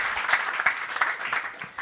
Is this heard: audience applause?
yes